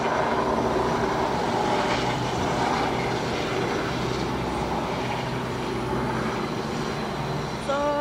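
Two helicopters take off near an airport runway in Bali, giving a loud, steady, close engine and rotor drone that continues unbroken throughout.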